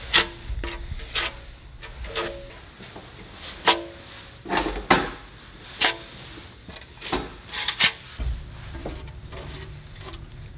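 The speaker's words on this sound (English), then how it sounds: "I'm gonna take this nice little paddle here. I'm gonna begin to apply some Bondo." A plastic paddle spreads Bondo body filler over a low spot on a hood scoop cut from a Jeep hood, with close scraping strokes and soft taps in an irregular rhythm and no talking.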